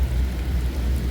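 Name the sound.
heavy rain with thunder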